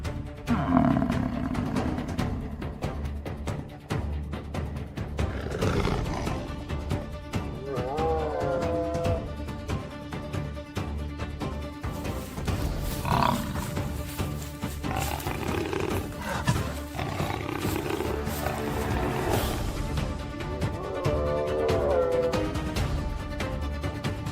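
On the African savanna, a lioness attacks a buffalo as the herd charges. Deep roars and growls rise and fall over a continuous rumbling commotion.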